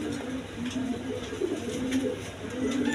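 Pigeons coo in a low, repeated burbling murmur over steady background noise, fairly close and continuous throughout.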